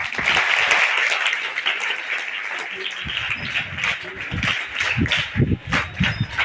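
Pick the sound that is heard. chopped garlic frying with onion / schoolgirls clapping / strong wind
schoolgirls clapping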